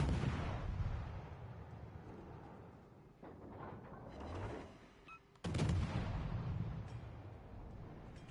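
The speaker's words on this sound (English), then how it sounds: "just shooting HE at this Yamato" Naval gunfire in World of Warships: Legends, a battleship pumping HE shells at a Yamato; heavy booming salvos roll continuously, dipping mid-clip before a sharp loud blast renews the rumbling barrage.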